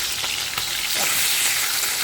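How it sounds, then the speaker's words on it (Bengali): Fish fries in hot oil on a high flame, giving a loud, continuous sizzle, while a spatula stirs it with a couple of soft scrapes. "প্রচুর সুন্দর দেখো ভাজা হচ্ছে আর আঁচটা কিন্তু আমি একদম হাই ফ্লেমে রেখে"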